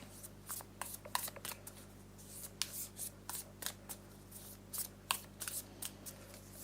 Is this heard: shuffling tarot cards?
yes